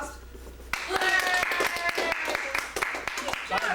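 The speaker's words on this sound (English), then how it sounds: "Okay, applause." A group of family performers at a farm gathering receives applause after a bow, with scattered hand claps and cheering voices breaking out together, close and lively, mixed with talk.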